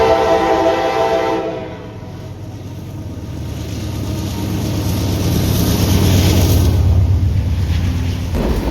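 A freight train with a DPU locomotive passes near a bridge, its horn sounding at the start over a loud, steady rumble of wheels and cars that swells and holds.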